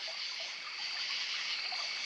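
Steady, gentle trickle of Cave Hollow Creek on the Ozark Trail in Missouri running continuously, close by, with no voices.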